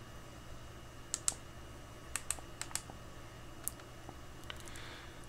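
A few faint keystrokes on a keyboard while a URL is entered, scattered single clicks and a short cluster of taps over a quiet background hum.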